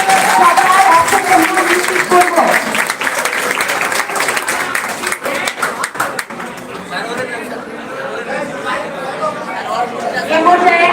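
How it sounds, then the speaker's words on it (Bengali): An audience at a Bangladeshi school farewell ceremony for SSC examinees claps loudly for the departing students, a dense, sustained wash of applause mixed with crowd chatter that thins slightly toward the end. "বিদায় শিক্ষার্থীদেরকে আমরা আরো একবার জোরে করতালির মাধ্যমে"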